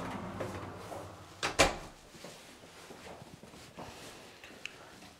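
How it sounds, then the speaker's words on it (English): A house door swung shut with a single solid thud about midway, followed by a quieter knock, in an indoor room of a three-bedroom detached home near the dining area. "We'll just close the door behind us."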